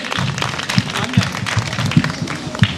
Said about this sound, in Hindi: तालियां भाई इनके लिए